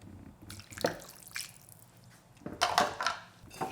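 Water pours into a pot of Korean spicy tuna stew with lettuce wraps in a quiet kitchen, heard as short splashy trickles and drips in two bursts, close and soft, with no talk.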